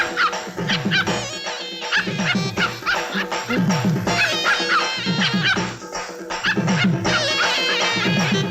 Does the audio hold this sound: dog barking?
yes